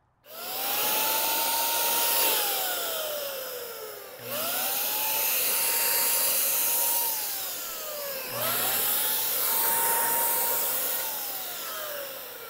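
A paint sprayer fires up to coat a pool slide, running in three sustained, hissing bursts of roughly four seconds each, with a rising whine at the start of each burst. The spraying is loud and close, with no talking.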